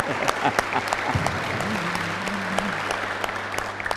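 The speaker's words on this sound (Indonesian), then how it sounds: "Nah, tepuk tangan." A crowd claps in steady applause at moderate volume while someone speaks over it, at a university event in Malang.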